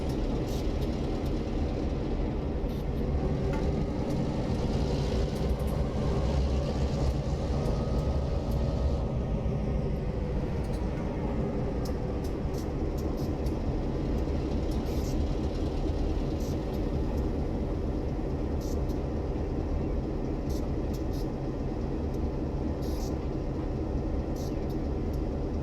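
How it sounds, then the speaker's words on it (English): A locomotive in Train Simulator 2020 rumbles low and steadily as dynamic braking kicks in, with a heavy continuous drone and faint metallic ticks above it, no talking. "There's a dynamic braking kicking in."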